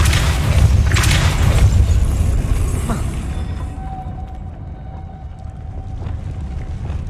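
The Depulso force spell cast in Hogwarts Legacy hits with a deep, loud boom and rumbling blast that fades over several seconds into a quieter low ambient hum.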